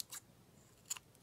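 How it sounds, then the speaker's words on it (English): Scissors snip yarn during crochet work: two quick, crisp, faint cuts less than a second apart, close up in a quiet room. "first I'm going to cut this yarn"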